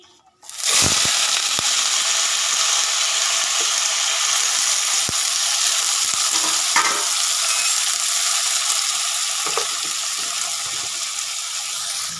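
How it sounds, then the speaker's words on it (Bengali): Onion pieces hit hot oil with an abrupt loud burst, then fry in a dense, constant crackling sizzle close up, with occasional stirring scrapes. "এই যে পেঁয়াজ কিলিগুলো দিয়ে দিলাম।"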